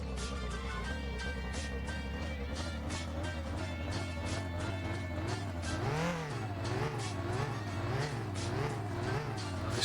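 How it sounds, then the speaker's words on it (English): A car engine in My Winter Car revs while warming up on a cold start with the choke in use, a steady mid-pitched drone that rises and falls in rhythmic surges, close and continuous. "I'll keep revving it just so it warms up"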